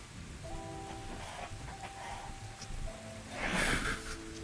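Rain ambience plays during a tabletop role-play session, a steady wash of falling rain under faint tonal background sounds, swelling briefly louder near the end.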